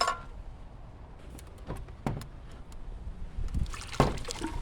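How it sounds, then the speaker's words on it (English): Water trickles and splashes as hot water is poured from a solar kettle, interrupted by a few sharp knocks and clatters nearby. "We poured a little bit too much."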